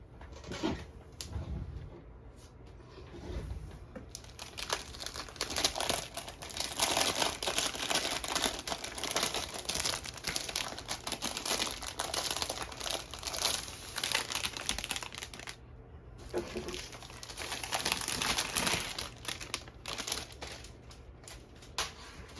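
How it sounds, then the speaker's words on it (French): Paper wrapping around a diamond painting canvas is crinkled and unfolded by hand during an unboxing, a soft continuous rustling that runs steadily with brief pauses. "Ensuite, c'est emballé dans un papier comme ça. Donc, c'est doublement protégé. Et on va aller ouvrir ça ensemble."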